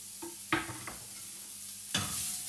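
Quiet sizzling of onions and curry leaves frying in a pan, with a few sharp stirring scrapes and clatters, steady frying hiss underneath.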